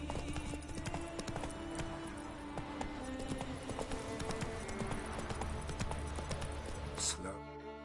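Roach the horse galloping in The Witcher 3: Wild Hunt, a fast, steady clip-clop of hooves running the whole time under game music, with a short swell of sound near the end.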